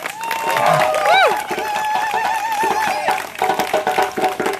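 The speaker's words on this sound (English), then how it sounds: "Clap it up for that brother one more time." A rally crowd in Baltimore claps and cheers, with rising whoops and voices over a steady patter of hands, loud and close, easing into scattered clapping near the end.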